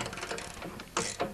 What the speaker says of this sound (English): You're going to need a 7/16 socket to remove these nuts